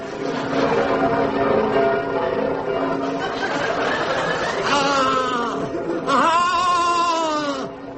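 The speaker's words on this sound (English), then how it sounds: "I must ring the bells!" A comic radio sound effect of bells ringing for a Quasimodo sketch, with clanging metallic tones sounding under an audience laughing and chattering, then rising into louder, wavering peals.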